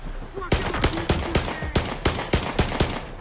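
Rapid bursts of gunfire in the video game Stalker 2, a string of sharp, evenly spaced shots ringing out close and loud, with a voice talking over the shooting.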